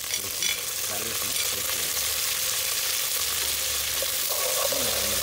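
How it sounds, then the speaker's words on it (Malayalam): Curry leaves go into hot oil with garlic for a sweet mango curry, raising a continuous bright sizzle with a few light stirring scrapes, close and steady throughout. "അതിനുശേഷം അതിലേക്ക് കറിവേപ്പില ആഡ് ചെയ്ത് കൊടുക്കാം."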